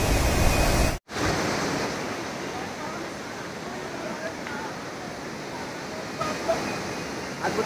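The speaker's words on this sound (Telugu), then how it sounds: "చక్కటి జలపాతాల మధ్యలో" Waterfalls on the Manimahesh Kailas trail give a loud, continuous rushing roar that fills the whole stretch, with faint voices beneath it.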